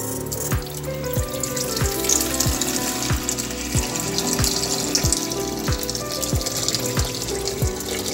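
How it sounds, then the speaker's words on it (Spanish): Water pours into a metal pot with a steady rushing splash that rings faintly off the metal, carrying on continuously and close by with a rhythmic low pulsing underneath, and no voices. "la llenarán de agua"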